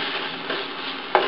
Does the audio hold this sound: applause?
no